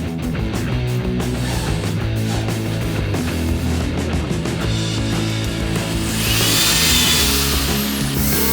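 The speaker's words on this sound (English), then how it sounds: "I'm gonna drill up through there and get a sheet metal screw in here first" Power drill boring into sheet metal on a 1965 Ford Mustang coupe restomod, a loud steady whining motor with grinding bite that rises in pitch near the end, close up and without talk.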